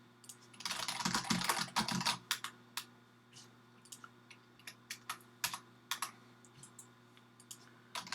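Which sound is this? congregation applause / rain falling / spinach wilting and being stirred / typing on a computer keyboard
typing on a computer keyboard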